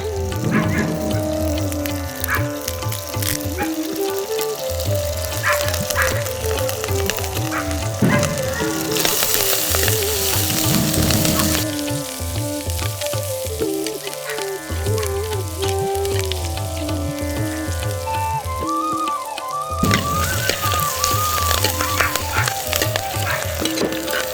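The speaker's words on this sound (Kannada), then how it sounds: "ಈರುಳ್ಳಿ ಚೆನ್ನಾಗಿ ಫ್ರೈ ಆಗ್ತಾ ಇದೆ" Chopped onions fry in hot oil with garlic and curry leaves for a village-style wild mushroom masala, giving a steady, close sizzle that runs throughout alongside tonal background sound.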